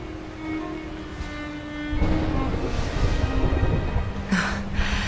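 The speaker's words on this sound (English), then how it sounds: "Would you look at it thundering away out there?" Thunder rolls through a rainstorm in the video game Dragon Quest XI, a deep rumble swelling over steady rain hiss, with a soft musical tone underneath and a brighter crack near the end.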